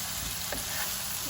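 Boiled, diced potatoes fry in masala in a pan, giving a steady, close sizzle with a faint stir partway through.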